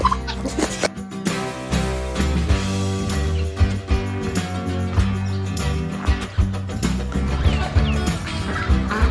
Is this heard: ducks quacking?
yes